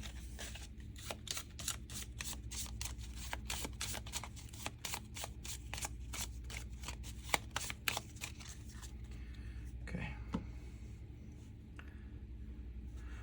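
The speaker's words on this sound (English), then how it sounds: "I get to shuffle an ice card from my discard pile into my deck" A deck of playing cards is shuffled during a tabletop card game, a rapid run of crisp riffling flicks for several seconds before quieter handling sounds, close but soft.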